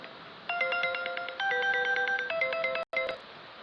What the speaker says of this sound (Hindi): क्योंकि आपको पता है फ़ोन आ गया था